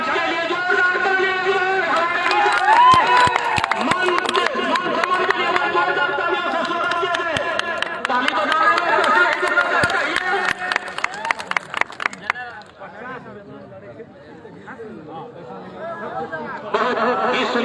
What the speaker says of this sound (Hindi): माननीय थाना अध्यक्ष के लिए जोरदार ताली